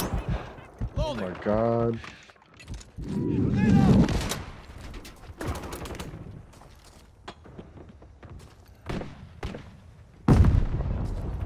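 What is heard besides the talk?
gunfire in video game Call of Duty MW3 Ground War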